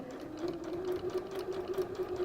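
Domestic sewing machine running steadily as it stitches close to the edge of the fabric, a continuous close whirring hum with fine mechanical ticking, heard alone without talk.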